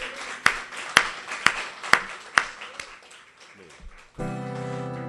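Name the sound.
congregation applauding in church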